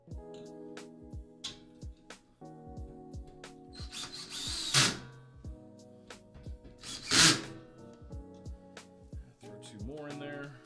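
Power drill driving screws into a Panduit patch panel in a data center closet, with short clicks and two louder whirring bursts of the drill amid a steady background hum.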